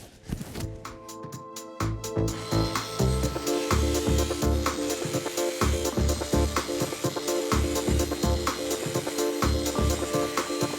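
Rapid, rhythmic scraping strokes of a cabinet gable's scribe edge being hand-sanded with a back bevel, close and steady, with a few sharp knocks at the start.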